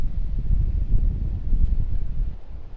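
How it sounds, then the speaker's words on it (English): Low, gusty wind rumbles and buffets continuously on a small island, heavy in the bass and rising and falling in strength without any voices. "It's just windy."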